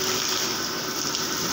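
Water gushes steadily while a refrigerator is being washed out, a continuous hissing rush that stays loud and even throughout with no voices.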